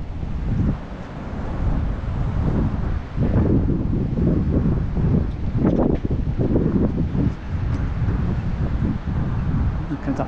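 Strong wind buffets the microphone outdoors on a roadside walk, a loud continuous gusting roar with low rumbling swells throughout.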